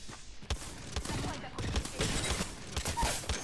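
Gunfire from a Mozambique shotgun in the shooter game Apex Legends, several sharp blasts mixed into a dense, busy mix of game effects, heard loud and close.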